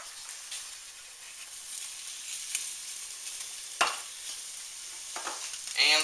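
Garlic and shrimp sizzle in a pan, a steady bright crackle with a few sharper pops and stirring scrapes toward the end, close and without speech.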